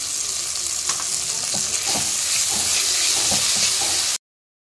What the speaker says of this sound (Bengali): রসুনটা একটু ভেজে নিচ্ছি